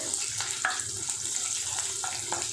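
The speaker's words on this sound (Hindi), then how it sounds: "इन्हें अच्छे से फ्राई करेंगे तेल के अंदर।" Small pieces of ginger, garlic cloves and cashews frying in hot oil give a steady crackling sizzle throughout, close up, with a few sharper pops rising above the hiss.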